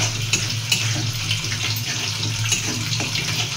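Water being poured into chicken masala cooking in a pan, a steady running splash with a faint sizzle underneath, close and continuous throughout.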